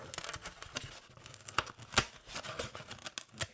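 Scissors snip and crunch through a styrofoam plate in a quick series of uneven, crackly cuts, close and fairly quiet, with no voices.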